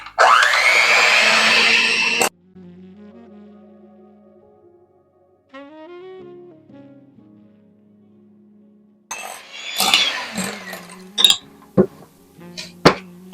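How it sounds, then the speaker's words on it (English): A hand mixer whirs loudly through lemonade cream pie filling for about two seconds, then cuts out, leaving quiet kitchen sounds and, near the end, a series of clinks and knocks of utensils and dishes. "I'm going to be using my hand mixer to get this mix blended up well together"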